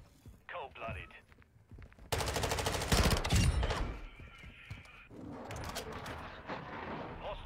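Rapid bursts of gunfire in a shooting video game, one dense loud volley in the middle with scattered shots around it and people talking.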